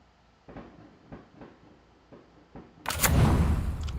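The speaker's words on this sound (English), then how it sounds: "People are lighting fireworks off." Fireworks going off outside in a residential neighbourhood: several faint muffled pops spaced out, then a louder sustained crackling burst near the end, heard from indoors with no talking.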